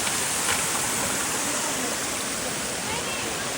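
Water pours down a waterfall at Torna Fort in the monsoon, a loud, continuous hissing roar heard up close that stays constant throughout.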